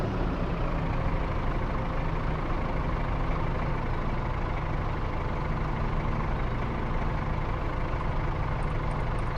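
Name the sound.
tractor engine in video game Farming Simulator 22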